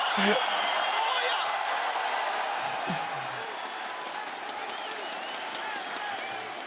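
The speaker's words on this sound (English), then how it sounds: "That is all aces from Forest, standing up and cheering, getting the crowd on their feet as well" A large esports arena crowd at a Counter-Strike quarterfinal at IEM Katowice roars and applauds loudly and continuously, fading slightly, while a commentator talks over it.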